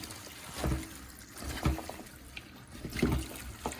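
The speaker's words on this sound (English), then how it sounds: "Rinse it with a little more water." Water splashes and trickles in irregular bursts as callaloo greens are rinsed under running water, a few distinct sloshing pulses close by, with quieter running water between them.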